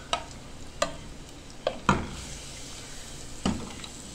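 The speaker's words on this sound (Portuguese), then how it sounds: "Tô dourando aqui um alho" Garlic frying in a pan with a faint sizzle, broken by a few sharp scrapes and knocks as it is stirred, close and fairly quiet.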